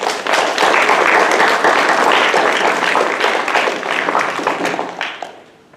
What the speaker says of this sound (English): let's have a round of applause for Marissa